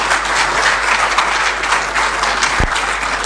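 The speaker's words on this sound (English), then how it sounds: "A round of applause is well deserving" Loud, dense applause from a large audience at a public address by President Mahama, continuous and even across the whole stretch with a single low thump near the end.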